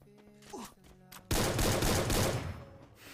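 In a Free Fire match, an M10 opens up in a sudden loud burst of rapid automatic gunfire that runs for about two seconds and then trails off, with fainter game sounds before it.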